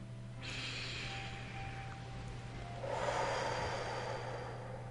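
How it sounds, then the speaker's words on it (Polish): Guided breathing exercise: one slow nasal inhale followed by a long, audible exhale through the mouth, close and soft, in a quiet room with a faint steady hum and no talking. "Rób wdech nosem i długi, głośny wydech ustami."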